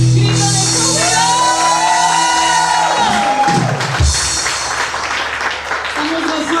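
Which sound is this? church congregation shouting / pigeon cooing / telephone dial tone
church congregation shouting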